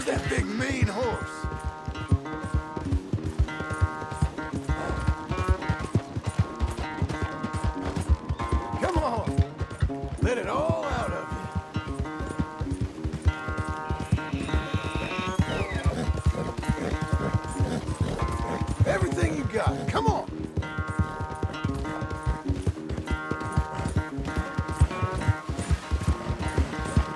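Horse hooves clip-clopping with occasional whinnies in the Red Dead Redemption 2 epilogue, a restless big horse being broken in, set against a dense game music score and a steady rhythmic beat throughout.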